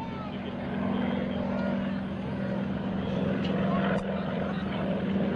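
Propeller aircraft of the GEICO Skytypers team drone steadily overhead at a 2005 joint services airshow open house, a continuous loud engine hum with faint crowd and announcer sounds underneath.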